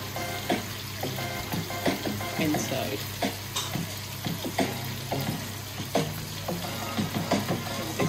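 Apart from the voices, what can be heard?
yam slices frying in olive oil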